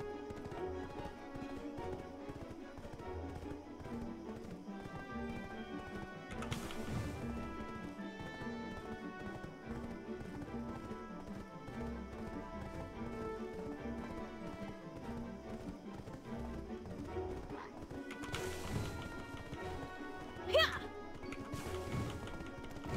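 Horse hooves galloping in Black Desert Online, a steady clip-clop rhythm running under in-game music, with a few sharp crashing hits near the end and some talk over it.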